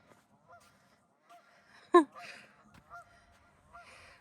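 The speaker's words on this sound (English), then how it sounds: "With the geese squawking." Geese honk intermittently at a distance, with one louder, sharper honk standing out amid quieter calls in an otherwise calm outdoor setting.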